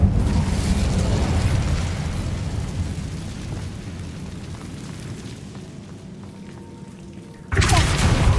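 An Incendio fire spell in a Harry Potter video game bursts with a roaring whoosh that slowly fades, then a second loud blast erupts abruptly near the end.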